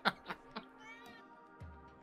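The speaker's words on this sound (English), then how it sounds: "And the cat meows." A cat gives a few short, faint meows, followed by a drawn-out meow in a quiet setting.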